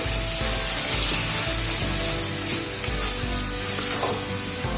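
A spice paste of salt, turmeric and Kashmiri chilli powder fries in a pan for potato dum, a loud, steady sizzle with rhythmic scraping of stirring, unbroken and close.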